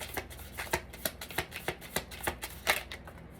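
Tarot cards are shuffled by hand, giving a close, quiet series of crisp riffling flicks in a steady rhythm of about three per second, with no talking.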